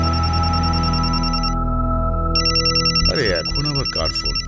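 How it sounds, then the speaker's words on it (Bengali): A telephone rings with repeated electronic trills, pausing briefly before resuming, loud and close indoors, with a person starting to talk over the later rings. "আরে এখন আবার কার ফোন?"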